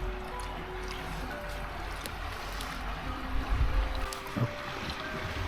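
Steady wind blowing by a riverside near the Mekong at Ban Huai Thong, with continuous low rumbling gusts and faint water and boat ambience, a slightly stronger gust midway, no voices.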